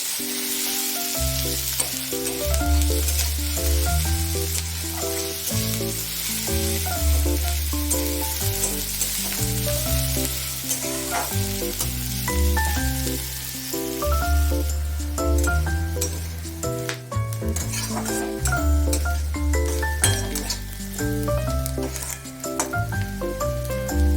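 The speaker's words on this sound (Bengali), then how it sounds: "এটাকে একটু ভাজা ভাজা করে নেব।" Chopped onion with cumin sizzling in hot oil in a frying pan, loud continuous frying hiss with repeated stirring scrapes and light utensil clinks close by.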